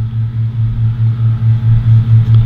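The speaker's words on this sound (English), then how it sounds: "You get two tractors in together there." Two working tractors' heavy diesel engines rumble steadily nearby, their low drone pulsing in a regular rhythm throughout.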